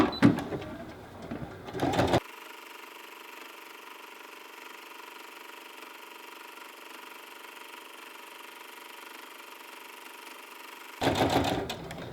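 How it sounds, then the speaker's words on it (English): A sewing machine stitches a line to hold down a fabric piece on a quilt-as-you-go Christmas tree skirt, running with a fast, close whirring hum for several seconds between brief bursts at the start and end. "I'm going to stitch a line on this one piece right now to hold it down"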